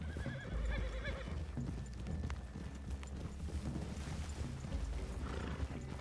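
Horses in Red Dead Redemption 2 stand and shift near a forest clearing, hooves clip-clopping softly while one gives a clear whinny near the start, over low outdoor ambience.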